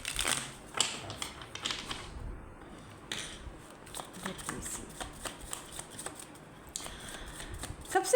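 Tarot cards shuffled by hand in a series of quick papery riffles and flicks, close and fairly soft, with brief pauses between bursts and no talk over them.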